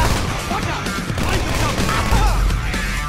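Dense bursts of gunfire from a heist in the video game GTA 5 Online, continuous and loud for the whole stretch, mixed with crashing game noise.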